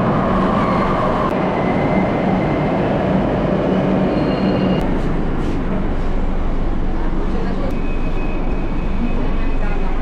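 A metro train rumbles steadily through a station with a continuous loud roar of wheels and rail noise, faint squeals, and people talking underneath.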